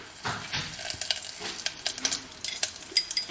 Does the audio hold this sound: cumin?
yes